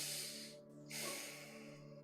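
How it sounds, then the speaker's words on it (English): Slow deep breaths taken during a holistic health lecture, soft airy inhale and exhale close by, quiet and faint over a steady background hum. "take a couple deep breaths"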